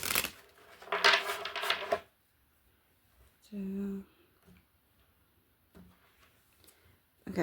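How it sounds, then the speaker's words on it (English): Tarot cards shuffled by hand in a quick rustling flurry of about two seconds, close and fairly quiet, followed by a brief voice and near silence. "But I'll shuffle quick."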